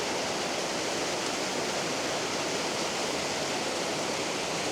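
Waterfalls in Glenariff Forest Park on a spring walk give a steady, dense rush of falling water that stays constant and fairly close throughout, with no voices over it.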